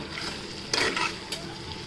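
Stirring mutton vajari curry in a pan with a few scraping, sizzling bursts against a steady background hiss; no voices.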